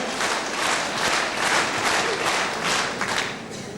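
Concert audience applauding at a memorial concert, a dense, sustained burst of many hands clapping that swells and then tapers slightly toward the end.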